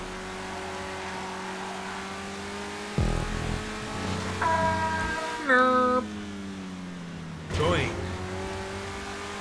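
A car driving and drifting in GTA 5 Online, an engine droning steadily with rising and falling revs, a few squealing bursts and shifting pitch sweeps, with a voice speaking briefly over it.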